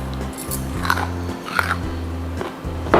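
Raw cherry radish being bitten and chewed up close, with several crisp, wet crunches spaced through three seconds over a low background hum. No one speaks.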